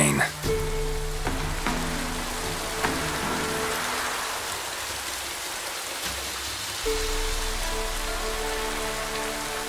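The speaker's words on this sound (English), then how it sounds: "Looks like rain." Rain patters steadily in the open world of The Witcher 3, a continuous hissing wash of drops under a low droning ambience, moderately quiet with a couple of soft thuds.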